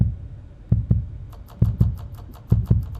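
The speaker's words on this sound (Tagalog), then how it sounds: "Oo nga, ba't tigay yung heartbeat?" Heartbeat in the horror game Backrooms: Escape Together: three paired lub-dub thumps, deep and muffled, spaced about a second apart over a low droning hum, with no talk.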